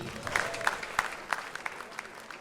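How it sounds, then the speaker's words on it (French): Audience applauding members of a Grenade sausage brotherhood at a chapter ceremony, scattered individual claps in an uneven rhythm, fairly faint and sparse, mixed with quiet voices. "Vous pouvez les applaudir."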